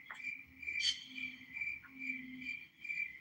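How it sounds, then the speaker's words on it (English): A cricket chirps in a repeating rhythm of short, bright, steady trills, several in quick succession at a moderate level, with faint low background noise under it. "I don't know who's doing the cricket sound"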